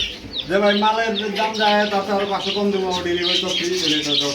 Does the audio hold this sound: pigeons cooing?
yes